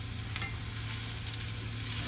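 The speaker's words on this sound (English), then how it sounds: "And it's sauteing, I'm browning it to give it a nice toasty" Long enriched white rice sautés and browns in a pan with a steady, soft sizzle and gentle stirring throughout, close by and alone, with no talking.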